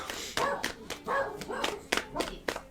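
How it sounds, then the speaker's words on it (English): A dog barks repeatedly in sharp close bursts, irregularly spaced over a person talking indoors. "Sorry about the dog."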